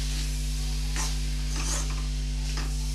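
Spices with ground coriander being stirred in a pan, soft scraping strokes over a steady low hum, close and fairly quiet, no talk.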